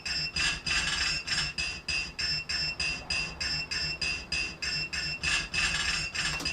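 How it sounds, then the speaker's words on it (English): Steady metallic tapping pulses over a looping, swelling cymbal wash, forming a fast, even rhythm like hi-hats, with no talking. "this tapping sound, which was actually from the record."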